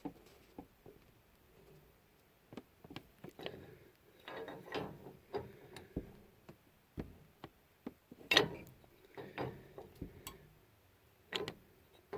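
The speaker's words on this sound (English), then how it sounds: "So we're gonna unscrew this and see what we can get going here." Ratchet clicking while unscrewing a capped gas line fitting, a faint, close series of irregular ticks and metallic clacks in short bursts with quiet gaps between them.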